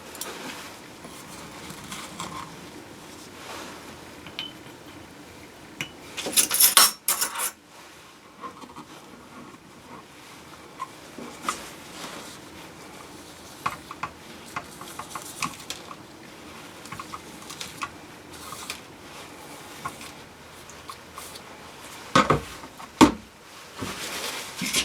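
Resin stirred in isopropyl alcohol, soft scraping and tapping patter from a stick working the container, with a few sharper knocks and clatters scattered through.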